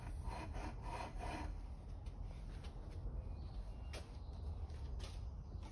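A letter N drill bit bores into a Model A Zenith carburetor for a throttle shaft bushing, giving a quiet, steady rasping grind that continues at close range without pause.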